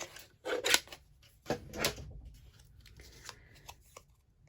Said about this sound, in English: What I want to do with this is cut it down the middle